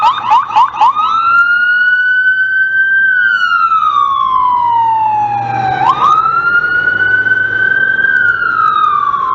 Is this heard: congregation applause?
no